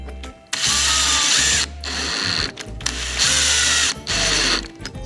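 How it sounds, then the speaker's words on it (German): A power screwdriver drives two small screws into wood while a roller stand is built in a woodworking shop: three loud, close whirring bursts, each lasting about a second, with ratcheting clutch noise and short pauses between them. "Jetzt kommen da noch zwei ganz kleine Schrauben rein"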